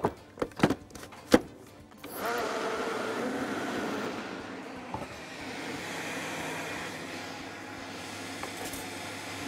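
A blender whirs steadily while blending a strawberry cocktail of banana, mango, sugar, cream, condensed milk and water. A few sharp clicks come first, then a continuous motor drone that fills the rest, moderately loud and without talk.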